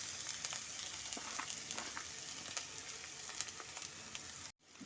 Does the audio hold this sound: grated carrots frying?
yes